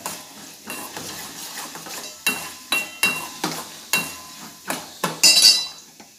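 Coconut pieces and raisins roast slowly over a low flame in a pan for payasam, with a soft sizzle under a series of sharp scraping stirs and clinks of a spoon against the pan.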